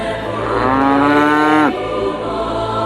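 A dairy cow lets out one long, loud, close moo that rises slightly before dropping off sharply, followed by a quieter tail amid steady background noise.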